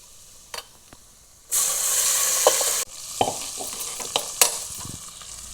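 Tomato, onion, ginger and garlic gravy goes into a hot pan with a sudden loud sizzle, followed by a spoon stirring and scraping as the frying settles to a softer crackle.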